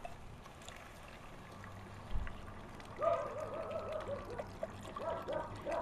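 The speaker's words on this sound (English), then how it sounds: "got the beef broth. Going to go ahead and add that" Beef broth pouring into a stew pot, a soft gurgling trickle that starts after a thump and continues steadily at low volume with no talk.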